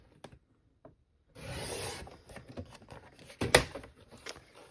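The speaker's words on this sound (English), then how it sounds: "I'm going to trim this off" A paperboard edge is trimmed for a DIY Valentine album base, heard as a close, dry scraping rasp that runs for a couple of seconds, after a few faint ticks, then a louder sharp swipe.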